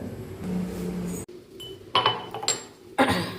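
A lid is set on a cooking pot of simmering mango pulissery with ghee, giving a few light, close clinks and taps of metal and glass against a quiet kitchen background.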